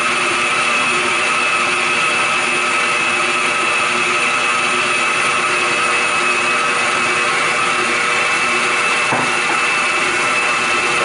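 An electric mixer beats eggs into pound cake batter with a loud, steady motorized whine and whir, running continuously up close with no talk.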